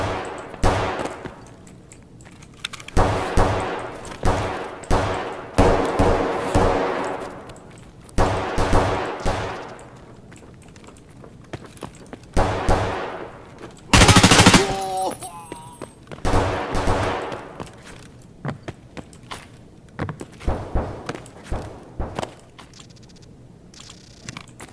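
M4A1 rifle firing in Escape From Tarkov, heard as repeated bursts of gunfire with short gaps, fairly loud and close, mixed with other game sounds.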